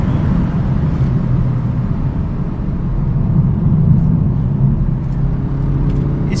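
A 205 hp Kia Proceed GT pulling hard under acceleration, its engine a continuous loud droning hum from inside the cabin that swells slightly midway, with no talk.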